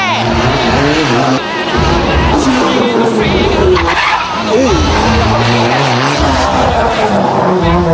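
Race cars roar past with loud screeching tires and revving engines, while a voice talks over the din.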